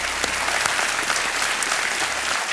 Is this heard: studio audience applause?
yes